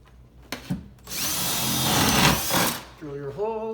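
A drill bores holes through a paper template for microwave mounting, a loud close whine rising for about two seconds after a few knocks, then winding down as a tone fades.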